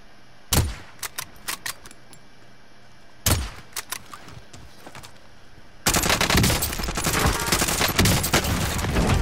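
Warzone gunfire: two quick bursts of sharp shots with pauses between them, then a sustained, loud volley of rapid fire that runs to the end.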